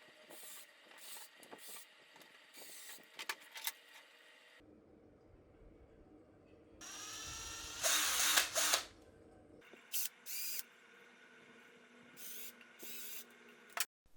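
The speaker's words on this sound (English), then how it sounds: "Just going to use this 2mm drill bit to drill out and mark the holes" Drilling holes in a 3D-printed studio light body with a 2mm bit: several short bursts of drill whine at low level, with a louder sustained run in the middle and brief bursts before and after.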